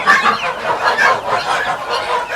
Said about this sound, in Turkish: köy civcivlerini koydum